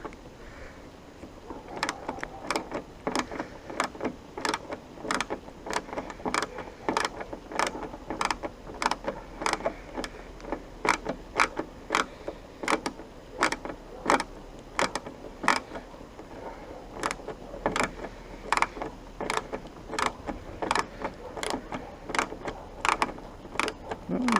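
A socket wrench with an extension works the roof rail fasteners on a 2015 Ford Escape/Kuga, giving a long run of sharp, regular ratcheting clicks at close range over faint background noise.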